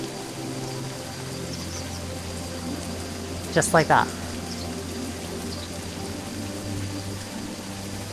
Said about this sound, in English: I love the sound of rain, it's relaxing.